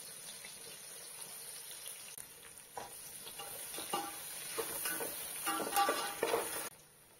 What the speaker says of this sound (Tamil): வெங்காயம் போட்டுக்கலாங்க.